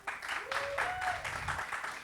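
Audience applause at a live Hindi music stage show, a burst of clapping and cheering lasting about two seconds at steady volume, with a voice rising briefly over it.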